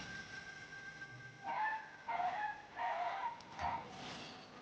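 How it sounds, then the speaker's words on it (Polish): A dog barks downstairs in four separate, evenly spaced barks, muffled and somewhat distant, over a low background hum. "A to nie mój pies, nie mój, to na dole coś się dzieje."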